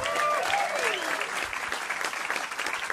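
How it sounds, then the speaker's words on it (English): Comedy club audience at Zanies applauds and cheers loudly, a dense steady wash of clapping with a few whoops, fading slightly toward the end. "Give yourselves a round of applause one more time."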